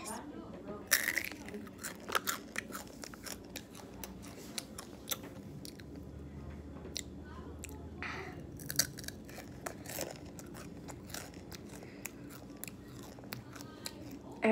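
Someone crunches and chews spicy chips close to the microphone, with a crinkling bag and a run of crisp bites and chewing spread through the clip.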